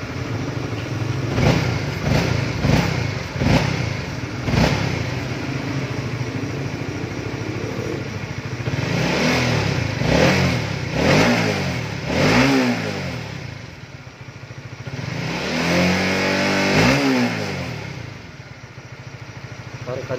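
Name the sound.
Honda CBR 150 motorcycle engine revving with throttle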